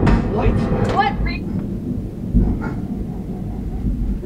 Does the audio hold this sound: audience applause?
no